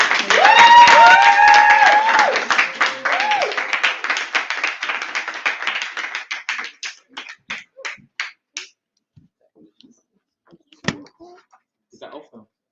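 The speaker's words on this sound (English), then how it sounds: "So if we could just all give Lee a round of applause." A conference audience gives a round of applause after a speaker. The clapping starts dense and loud under talking voices, then thins into scattered, fading claps, with a few isolated late claps near the end.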